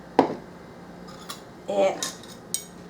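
Metal measuring spoons clink together as they are handled while a red velvet cake is prepared, a few sharp, close clinks spaced apart in a quiet kitchen.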